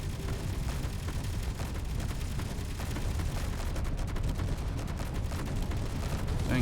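Continuous rattling gunfire and impacts in Space Engineers, a dense, rumbling barrage that persists steadily at moderate level throughout without pause.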